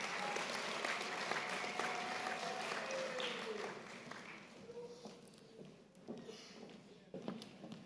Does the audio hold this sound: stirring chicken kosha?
no